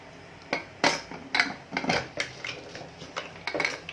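A metal pot and lid clink and clatter repeatedly at close range as they are placed in a pressure cooker, a quick irregular series of sharp knocks.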